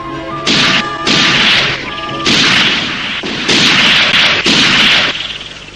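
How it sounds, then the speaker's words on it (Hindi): Gunfire in a Hindi Jungle Book animated cartoon rings out in loud repeated blasts, several bursts of heavy shots with short gaps between them, close and harsh, over a faint musical tone. "गोली चलाओ जल्दी।"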